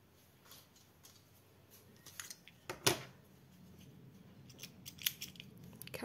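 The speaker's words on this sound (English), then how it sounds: "And then you grab your scissors." A couple of faint, crisp snips from scissors cutting yarn against quiet room noise, the sharpest cut near the middle.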